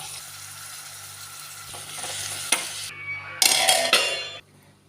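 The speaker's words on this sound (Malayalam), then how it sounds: "കുറച്ച് ഉള്ളി ഇട്ടിട്ട് നല്ലോണം ഒന്ന് വാട്ടിയെടുക്കാം" Oil sizzles steadily as onions sauté in a pan for a raw-banana thoran, with a few clinks and stirring scrapes, louder bursts of frying near the end before it quiets.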